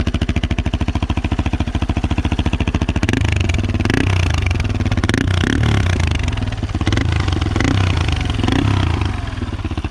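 A Yamaha Warrior 350 quad with a homemade exhaust baffle runs loud and close, its single-cylinder thump steady at first, then rising into revving with clattering mechanical noise.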